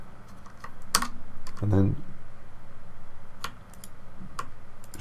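Computer keyboard keys clatter in quick bursts of clicks as Blender shortcut combinations are pressed, close and crisp beneath a person talking.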